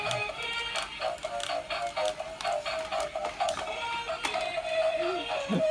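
A small battery Iron Man toy with lights and sounds whirs and clicks rapidly as it dances in a steady mechanical rhythm, with tinny electronic tones layered over the ticking motor.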